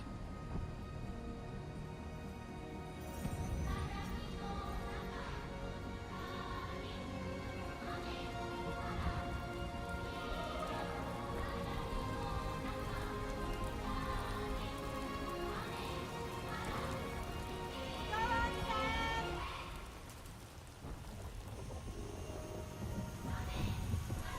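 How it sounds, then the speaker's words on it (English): Rain falls steadily in the video game Death Stranding 2, a soft continuous patter that thins out near the end, fairly quiet overall. "She's gonna call down the rain, put out the fires."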